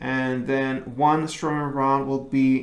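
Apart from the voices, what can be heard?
No everyday noises stand out.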